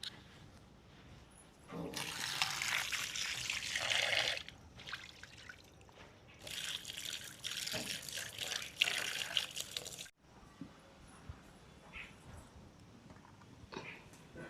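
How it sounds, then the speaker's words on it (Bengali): Fish and fish roe washed under running water, a steady splashing stream with brief drips that flows in two long spells, a short break between them and a quieter trickle afterward. "এবার মাছ আর ডিম ধুয়ে নেব।"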